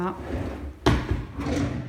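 A kitchen storage drawer slides and shuts with a sharp close knock near the middle, followed by lighter rattles, while someone talks throughout.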